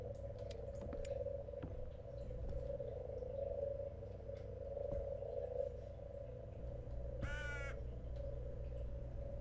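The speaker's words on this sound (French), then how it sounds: "Oh, le corbeau, on l'a vu" A crow caws once in a video game, a short harsh call standing out from a continuous low droning ambience with croaking frogs and faint scattered clicks.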